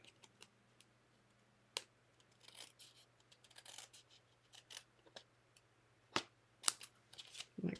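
Scissors trim a paper craft piece from a Paper Pumpkin card kit. Faint, sparse snips and small clicks come from close by in an otherwise quiet room.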